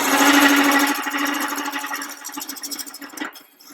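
A wood lathe spins while a radius square carbide tool cuts a cedar snowman, starting at the hat. A steady, close whirring hum with a scraping edge comes in strongly, then eases and wavers toward the end.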